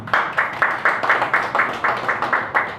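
An audience claps at an annual general meeting held in a hotel, producing about eleven sharp, evenly spaced claps in a steady rhythm that sound like one or a few pairs of hands, close and clear.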